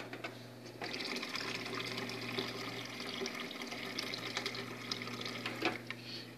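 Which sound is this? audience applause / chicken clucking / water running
water running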